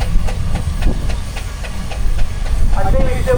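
A steam traction engine chuffs with a rapid, regular exhaust beat and a hiss as it works in the arena at a country show, loud and close, with voices faintly in the background.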